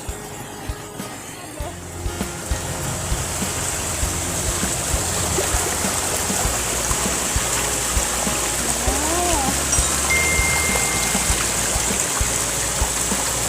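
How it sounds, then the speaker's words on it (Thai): Fifth tier of Huai Yang waterfall pours in a steady, loud rushing roar that holds throughout, with a few faint knocks and movements at the start. "นี่นะคะน้ำตกชั้นที่ห้าค่ะ"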